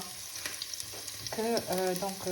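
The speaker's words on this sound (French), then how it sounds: "Pendant que les oignons sont en train de bien dorer" Onions browning in a pan give a steady sizzle with intermittent stirring scrapes, joined midway by a brief, clear tonal squeak or whine over the frying.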